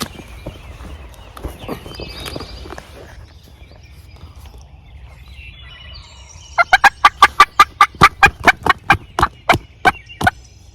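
Quiet outdoor ambience gives way to a rapid, loud series of wild turkey gobbles, rhythmic and fairly close, ending the clip.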